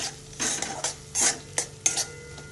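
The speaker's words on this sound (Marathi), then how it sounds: "मसाल्याला 4 ते 5 मिनिटं छान भाजून घ्यायचं तेल सुटेपर्यंत" Masala spices roast in oil for matar paneer while a spoon stirs and scrapes the pan in several distinct strokes over a low sizzle, close and without speech.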